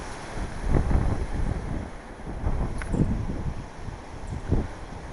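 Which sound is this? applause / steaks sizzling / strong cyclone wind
strong cyclone wind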